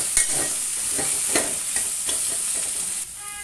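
Banana curry seasoned with salt and turmeric sizzles steadily in a pan while a spoon stirs it with intermittent scraping knocks, up close.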